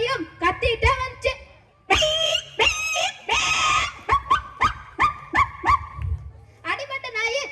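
A voice imitates an injured dog yelping: a quick run of sharp, high whining yelps, some drawn out, close and loud.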